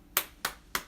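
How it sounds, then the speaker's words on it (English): Three single hand claps land about a third of a second apart, crisp and fairly close, over a quiet room at a jazz and spirituality gathering. "She is clapping."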